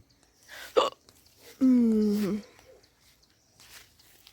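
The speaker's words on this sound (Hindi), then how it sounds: "गंदी वाली हिचकी लग रही है" A person hiccups up close, with one sharp hiccup followed by a longer voiced gulping sound, amid quiet background noise.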